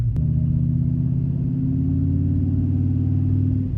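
A 2009 Dodge Viper ACR engine drones loud and steady from inside the cabin, a deep, even low-pitched hum with a faint click at the start and no voices.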